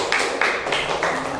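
Classroom applause for a student group, a short burst of light rapid clapping heard from a short distance.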